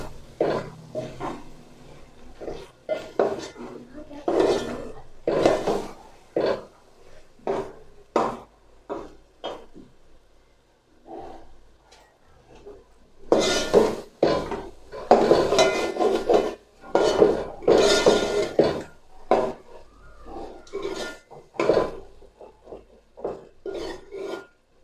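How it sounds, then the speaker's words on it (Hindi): A kilo of peas is stirred with spices and gravy in a cooking pot for aloo matar: repeated loud scraping and clattering strokes of a spoon against the pot, with a short quieter pause midway. "ग्रेवी के साथ मैं मिक्स करूँगा"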